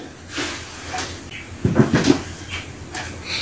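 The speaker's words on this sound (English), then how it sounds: "She found the door at the back of the room and opened the cupboard" A cupboard door, played as a sound effect in a storytelling performance, creaks and then thuds open near the middle. Quieter rustling and handling noises come before and after it, and no one speaks.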